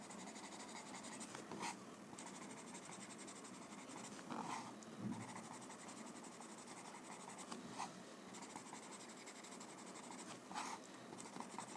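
Graphite blended on a paper coaster with a light hand, a soft, steady hiss of rubbing, close and faint, with a few slightly louder strokes now and then.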